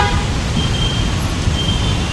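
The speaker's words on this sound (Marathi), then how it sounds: "त्याच्यामुळे ट्रॅफिक पण पूर्ण जाम झाली." Road traffic jammed in heavy Mumbai rain during a sudden daytime darkness, a steady broadband rumble of idling and creeping vehicles with faint horn toots, continuous and fairly loud.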